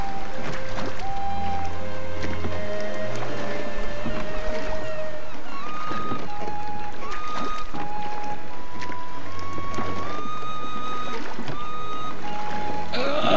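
A boat glides across water in the online game ArcheAge, a continuous loud rush of wash and wind layered under steady game music, with no talk.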